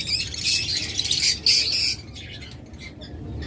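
Pet lovebirds in a bird shop chirp and squawk in shrill, rapid bursts close by, busiest in the first two seconds and then trailing off into sparser calls.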